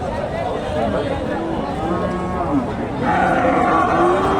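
A Friesian crossbreed heifer lows at a busy cattle market in Dhaper Haat, a sustained moo rising over a constant crowd murmur and nearby voices.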